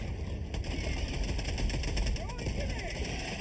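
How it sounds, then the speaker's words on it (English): Sentry turret in Helldivers 2 lays down sustained automatic fire in a dense, continuous stream amid game effects, with voices talking over the shooting. "Calling down a sentry!"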